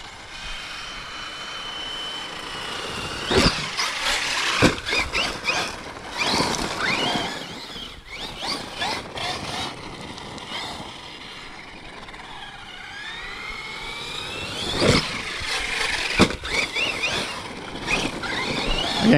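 Losi Super Lasernut RC truck on Proline MX38 Belted Badlands tires: a high, revving motor whine that rises and falls as it drives around, with a few sharp knocks and bangs along the way.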